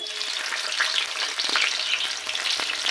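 Onions sizzle and crackle in hot oil in a pan, a loud, dense and steady frying hiss close up with small pops throughout, no voices.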